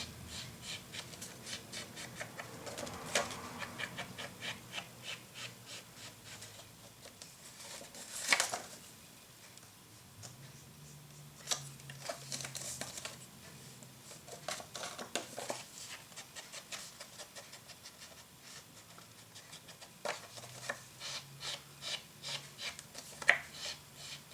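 Paper edges are lightly distressed for a Candy Sweet Christmas scrapbook album, producing faint, close scratchy rubbing strokes in short repeated bursts with brief pauses between them.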